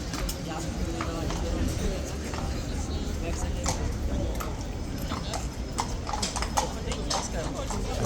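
Hooves of Horse Guards horses clip-clop on hard ground during the changing over of mounted troopers, a steady run of close, crisp strikes under continuous crowd chatter and talk.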